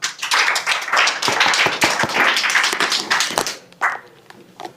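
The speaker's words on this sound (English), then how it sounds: "Let us give Mr. Kennedy Okongo a better clap." A crowd claps at the launch of an apprenticeship program for persons with disabilities, loud, close and uneven with sharp individual claps, tapering off and ending with a few scattered claps.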